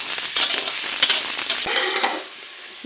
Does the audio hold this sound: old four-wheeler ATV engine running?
no